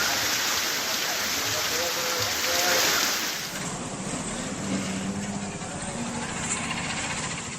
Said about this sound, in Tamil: தமிழகத்தின் பல்வேறு மாவட்டங்களில் நேற்றும் கனமழை கொட்டியது